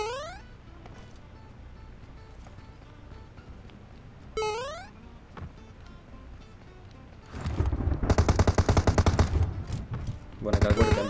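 Gunfire in the PUBG Mobile shooter game, with loud rapid automatic bursts taking over the second half after a few rising electronic sweep tones over quiet background game sound.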